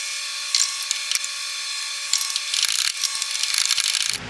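A ratchet wrench tightens bolts on a Mercedes R107 sway bar, giving close, rapid clicking bursts in short repeated strokes with brief pauses, steady and fairly loud with no talking.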